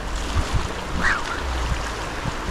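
Fast-running water of the River Dovey in Wales rushes past during fly fishing, a steady close wash of flow with some wind buffeting the microphone and no voices.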